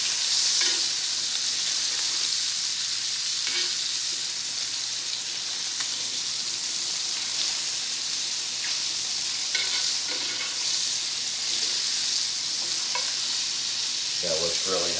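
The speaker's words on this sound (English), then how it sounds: "We're going to baste them for one more time here, and then we're going to put them down in the oven." Steaks sizzle steadily in a hot pan during basting for a keto steak dinner, a dense constant crackle with occasional spoon clinks and spatters, loud and close throughout.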